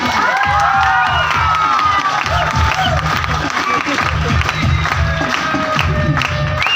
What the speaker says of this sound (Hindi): मैं चाहूंगी उनके लिए एक बार जोरदार वाला ताली